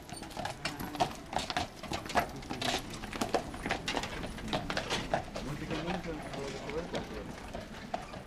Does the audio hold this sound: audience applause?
no